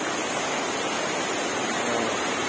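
Aliwagwag Falls in Cateel, Davao Oriental, giving off a constant, dense roar of rushing water, steady and loud throughout with no pauses.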